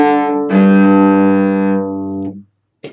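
A cello plays a short phrase with sustained bowed notes in an eighth-note rhythm, close and clear, ending in a brief silence before a faint new attack.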